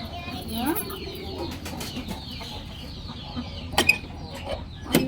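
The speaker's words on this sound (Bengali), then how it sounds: "আমরা এখন হচ্ছে হাঁস মুরগি ছাড়বো, ছাদে চলে আসছি।" Ducks and chickens are let out on a rooftop, with scattered clucks and bird calls over creaking mechanical sounds and a low background hum.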